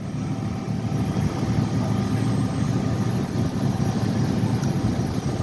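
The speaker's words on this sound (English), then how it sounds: "Somebody got a drone up in the sky." A drone hovers overhead above a Boston Fire Department response to an early morning fire, giving a steady, loud droning buzz that holds evenly throughout with no talk.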